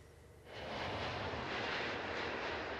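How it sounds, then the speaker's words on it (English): Airbus A380 passenger jet, a broad steady roar of jet engines that swells in after a quiet start and holds loud and constant to the end, with no voices. "The Airbus A380, the biggest passenger jet in the world."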